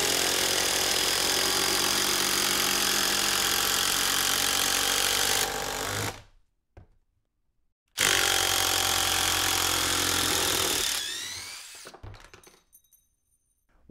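A DeWalt Atomic cordless drill rated at 2,800 RPM drives a 6-inch construction fastener in two loud, sustained runs of several seconds each. The motor whines near and steady, each run ending abruptly in silence.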